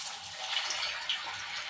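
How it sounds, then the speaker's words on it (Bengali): Kebab pieces seasoned with turmeric, chili powder and garam masala frying in hot oil, a steady close sizzling hiss that continues throughout with no talking. "এবার তেলে ছেড়ে দেবো"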